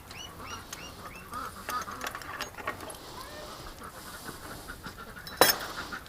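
A Muscovy duck outdoors at night makes soft, breathy hisses and quiet calls in short bursts near a gate, with a sharp clatter near the end.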